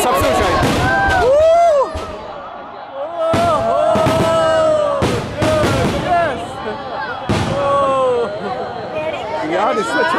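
Loud fireworks and firecrackers burst repeatedly at a Ramleela parade in Kanpur, with sharp bangs, whistling rockets and crackling amid a cheering, chattering crowd and voices.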